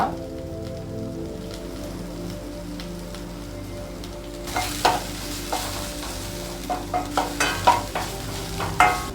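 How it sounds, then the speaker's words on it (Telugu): A small chopped onion fries with asafoetida and dried red chilies in a pan, making a steady crackling sizzle that grows louder partway through, with a run of sharp spatula stirs and scrapes toward the end. "ఒక రెబ్బ ఉల్లిగడ్డలు వేగి లైట్ గోల్డెన్ బ్రౌన్ కలర్లోకి వచ్చినాయి"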